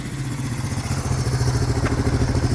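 A 1972 Honda CL350K4 Scrambler with high pipes thrums past at a steady, pulsing mid-pitched engine note, loud and fairly close, holding even throughout with no talk.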